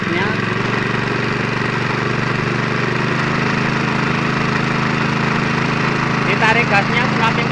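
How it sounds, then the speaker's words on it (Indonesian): A Honda WL30SN water pump engine drones loudly and steadily beside a well being dug, its even, close running tone filling the whole stretch. "Ini mesin Honda WL30SN. Ya, kita tarik gasnya."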